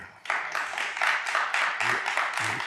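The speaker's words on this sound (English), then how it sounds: "I'm sorry, no clapping." A county meeting audience applauds together, a dense run of claps starting abruptly and holding steady, fairly close and loud, with a voice briefly audible near the end.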